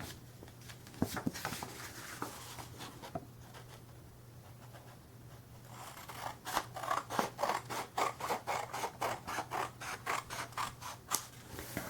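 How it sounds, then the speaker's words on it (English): Scissors snip through folded paper along its edge, a few scattered cuts early on, then a quick run of close, rhythmic snips near and clear over a faint steady hum, with no talking. "fold the corner over, and then cut along the edge."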